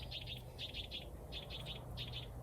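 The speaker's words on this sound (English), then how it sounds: "The bird says yes to this shape" Quick bright bird chirps in short clustered bursts over a faint low background hum, fairly distant and soft.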